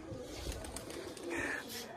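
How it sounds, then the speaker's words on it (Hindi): Pigeons coo softly in low, throaty murmurs, faint and a little distant, with a voice talking quietly underneath. "ये कबूतर जो है बाहर निकल चुके हैं, और सादिक कबूतर ने तो अंडा नहीं"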